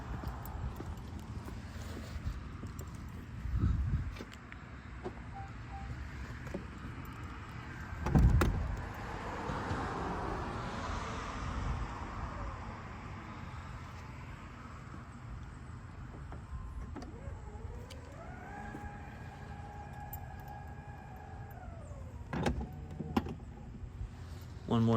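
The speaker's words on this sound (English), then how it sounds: "now we're gonna do the hatch" The electric tailgate of a Fisker Ocean moves open or shut with a soft motor whir and a couple of thuds and latch clicks, faint against outdoor traffic noise and passing cars.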